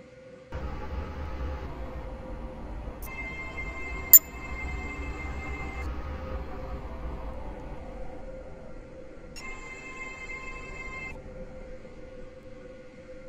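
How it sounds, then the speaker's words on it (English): Train running in the Stepford County Railway game, a low steady rumble of motion with faint tonal chimes and a brief sharp click, quiet and continuous, no speech. "This train is for Airport Terminal 3."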